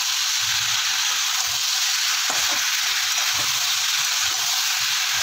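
Spinach is added to spiced vegetables frying in a pan, producing a loud, steady sizzle and hiss with occasional soft scrapes from stirring. No one talks.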